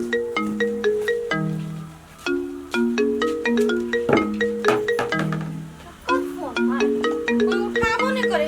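An electronic ringtone melody plays over and over without stopping, loud and close, repeating its tune several times.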